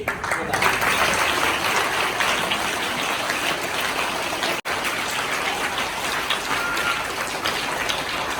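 A crowd at a school enrollment and girls' education celebration applauds in a long, steady wash of clapping, briefly dropping out for an instant midway before resuming.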